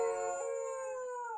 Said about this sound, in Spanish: ahí está otra vez ese perro aullando, con mucho dolor, con mucho sentimiento